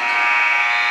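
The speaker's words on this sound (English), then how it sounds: "as the buzzer sounds" An end-of-quarter buzzer blares at a high school basketball game in a gym, one loud, steady, continuous electronic tone lasting the whole moment.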